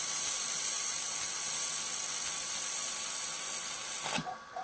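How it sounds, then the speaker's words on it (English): A laser welder runs a bead across a metal plate as one steady, loud high-pitched hiss and whir for about four seconds, then cuts off abruptly. No one speaks. "I wonder if I can just weld another bead across it."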